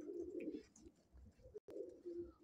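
Soft, low cooing of Punjabi pigeons repeats in gentle murmuring phrases, with brief chirps above and a short dropout near the end.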